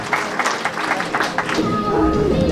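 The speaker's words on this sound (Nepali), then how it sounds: "उहाँलाई हामी ताली बजाएर स्वागत गर्नेछौँ" An audience claps in steady applause to welcome Pastor Rajan at a church picnic and water baptism service, a dense patter of hands heard at moderate level with voices mixed in.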